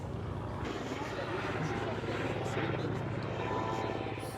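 A Gazelle helicopter flies past at a propeller-aircraft airshow at La Ferté-Alais, giving a steady, continuous rotor and turbine drone at moderate distance, with a crowd talking faintly underneath.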